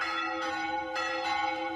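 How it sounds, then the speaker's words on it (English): Church bells ring right inside the bell tower, a loud sustained metallic tone with overlapping strikes and long ringing overtones, close and alone. "we were right there in the bell tower. and it was super loud"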